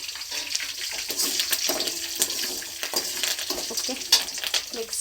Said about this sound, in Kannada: ಕರಿಬೇವು ಹಾಕಿದ್ರೆ ಚಟಪಟ ಚಟಪಟ ಅಂತ ಸೌಂಡ್ ಜಾಸ್ತಿ ಬರುತ್ತೆ